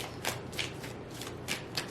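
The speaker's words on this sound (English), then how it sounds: "Let me shuffle this real quick" Tarot cards are shuffled in quick riffling bursts, about five crisp flurries in under two seconds, close and clear with no voices.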